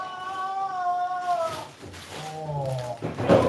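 A house cat meows loudly in a kitchen, giving a long drawn-out wail followed by a lower, shorter complaining meow, close to the microphone.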